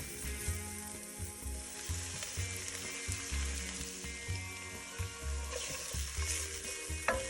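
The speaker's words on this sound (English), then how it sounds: "In a pan on medium heat, add some olive oil and a quarter of a sliced onion, a teaspoon of garlic, and cook until the onions are translucent." Sliced onion and garlic fry in olive oil in a pan over medium heat, a soft steady sizzle with a regular pattern of low utensil scrapes and stirring taps, fairly quiet and with no talking.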